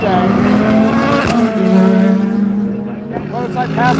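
GT3 race cars, a Corvette and a Ford Mustang, roar around Daytona during the Rolex 24 IMSA WeatherTech race, a steady loud engine drone with shifting pitch under continuous commentary.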